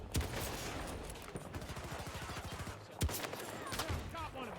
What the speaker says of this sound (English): Oh, we're getting sniped now